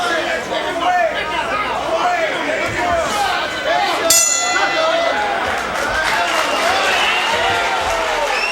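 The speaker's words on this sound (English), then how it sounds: "Morgan getting the accolades of the crowd here after coming on strong in the third" A crowd at a heavyweight boxing fight roars and applauds steadily throughout, a dense wash of cheering and chatter with a sharp clang partway through; voices murmur within the din.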